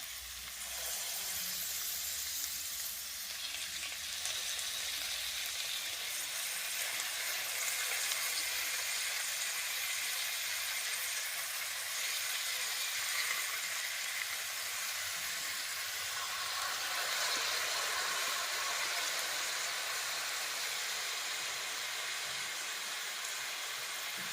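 Marinated fish laid into a hot pan for fish curry gives a steady, loud sizzle and hiss that runs unbroken throughout, with no voices.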